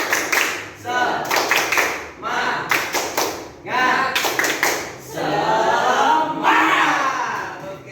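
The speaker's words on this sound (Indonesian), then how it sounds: "Untuk tepuk semangat" A class of students performs a rhythmic spirit clap: loud, tightly synchronized bursts of clapping in repeated patterns, followed by the group shouting together in unison.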